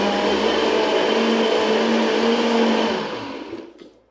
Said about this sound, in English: it's roughly blended everything very nicely in such a short period of Blender time